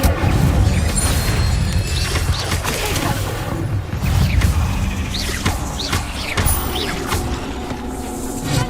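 A fire spell cast in Hogwarts Legacy erupts amid a dense, loud wash of booming, crashing game effects and rumbling mechanisms that continue steadily throughout.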